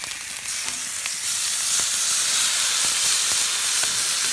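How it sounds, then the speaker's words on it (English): Reverse-seared steaks hit a hot plate, giving a loud, steady sizzling hiss that swells and holds close by, with a few faint clicks and taps and no voices. "now we're going to move these on over to the plate to sear them"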